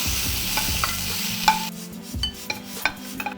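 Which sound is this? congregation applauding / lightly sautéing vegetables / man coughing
lightly sautéing vegetables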